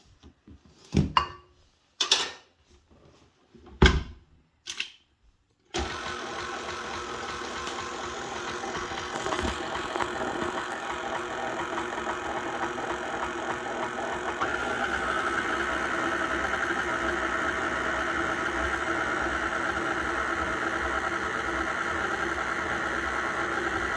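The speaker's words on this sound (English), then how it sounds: "we're going to start the mixer on low and see what our consistency is" A stand mixer running on low speed mixes homemade pizza dough, a steady, even motor whir that continues without pause after a few brief knocks and clatters at the start.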